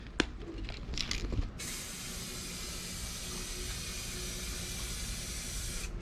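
After a brief clatter, an aerosol can of 2K clear coat hisses in one steady, continuous blast onto a Honda CRX body panel, close and even in volume.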